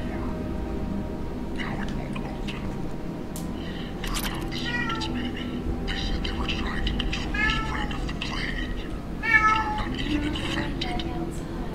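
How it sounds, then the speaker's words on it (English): Indoors, a house cat meows again and again to be let outside, its cries fairly faint and mixed with ongoing talk and other background sound. "If you guys can hear Osiris meowing, it's because he wants to go outside"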